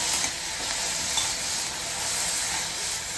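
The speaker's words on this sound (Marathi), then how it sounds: "तुम्ही बघू शकता जसा आपण तेलात कांदा परतवतो" Chopped onions sautéing in oil in a wok give a loud, even, continuous sizzle and hiss, close by and alone, with no voices.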